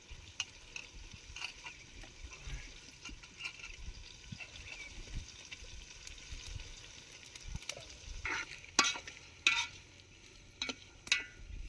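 Soaked rice is added to a pot of chicken pieces and stirred, giving soft wet scraping and sloshing with a few sharper clinks of the spoon against the pot near the end.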